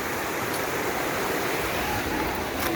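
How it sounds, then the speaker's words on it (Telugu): Water flowing in a forest stream along a pilgrimage walking route, a steady broad rushing wash that stays even from start to end, with a faint tap or two and no speech. "వంకలుగా వస్తున్నాయి చూడండి నీళ్ళు"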